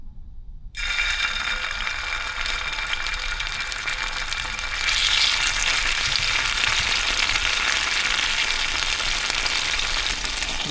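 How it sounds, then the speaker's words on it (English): Garlic drops into hot olive oil in a pan and bursts into a loud, steady sizzle of frying that carries on without a break. "Next, we're going to add some garlic."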